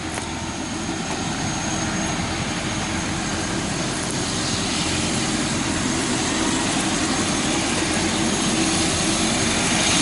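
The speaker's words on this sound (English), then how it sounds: "You might be able to hear in the distance there's a helicopter warming up." A helicopter warms up in the distance ahead of a feral animal shoot on a rural homestead, giving a steady, broad engine and rotor roar that builds slightly and continues unbroken.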